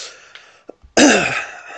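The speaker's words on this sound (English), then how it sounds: "Oh, that was a loud cough." A single loud, harsh cough bursts out close up after a few faint throat sounds, then trails off with a raspy tail.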